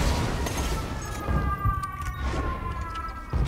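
A shotgun that fires pistol ammo in Borderlands 2 goes off in a flurry of sharp booming shots, loud and close, with a sustained tonal ringing running underneath.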